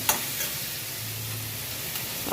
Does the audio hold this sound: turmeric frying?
yes